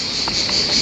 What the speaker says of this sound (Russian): Послушаем цикады